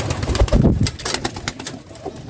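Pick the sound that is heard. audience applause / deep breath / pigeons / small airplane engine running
pigeons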